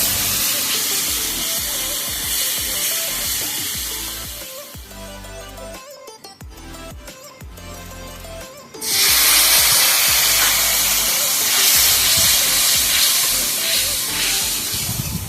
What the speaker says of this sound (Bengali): সেই মশলাটা এবার তুলে দিলাম সময় ভালোভাবে মশলাটা কষিয়ে নেব যত সময় না তেল না থাকে